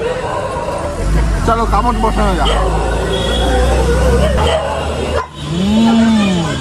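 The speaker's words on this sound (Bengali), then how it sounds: "কুকুরের আওয়াজ ইগনোর করো" A dog barks and yips at a busy street-food stall selling mutton rolls, sitting under a man's close speech and steady crowd babble and traffic hum.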